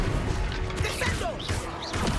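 In the Hogwarts Legacy video game, a Descendo spell slams an enemy down amid game effects: a heavy crash and thuds with whooshing magical swirls, loud and dense over a short burst.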